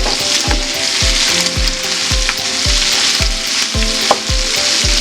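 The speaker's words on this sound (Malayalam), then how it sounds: "എന്നിട്ട് ഇതൊന്ന് ചെറുതായിട്ട് ഇളക്കി കൊടുക്കാം നമുക്ക്." Pepper chicken with masala frying in a pan, a loud, steady close sizzle with rhythmic thuds and scrapes of a spatula stirring roughly every half second, no talking.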